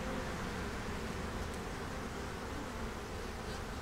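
Honeybees buzzing in a dense, steady drone around an unhatched queen cell inside an open hive, a continuous close swarm hum with no voices.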